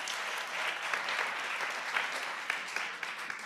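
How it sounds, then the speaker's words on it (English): An audience at an annual women's excellence awards evening gives a dense, even round of applause that fills the short span from start to finish, at moderate distance and with no voices above it. "Let us give them a big round of applause."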